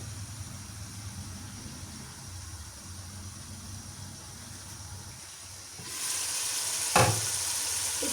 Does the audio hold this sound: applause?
no